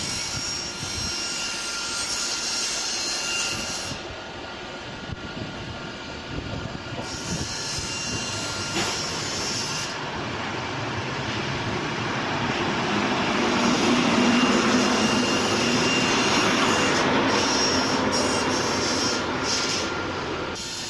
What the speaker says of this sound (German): Und es fährt jetzt ein der Akkutriebwagen, der uns nach Meiderich Süd bringen wird.